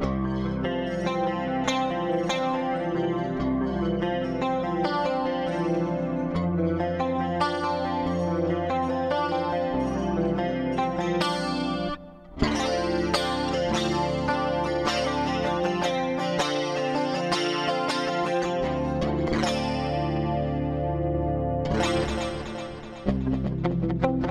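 Bright electric guitar riffs through a Fender Tone Master Pro shimmer with a wide Dimension chorus on mode three and bouncing ping-pong echoes, playing continuously with one brief pause midway, loud and unaccompanied by speech.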